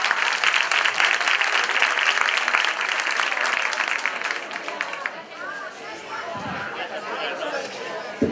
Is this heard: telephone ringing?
no